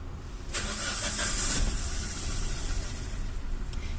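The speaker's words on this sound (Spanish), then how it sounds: "Ahora voy a prender el motor." A car engine cranks and catches, rising into a steady running hum that carries on through the rest, with no talk. The car has an ignition coil fault.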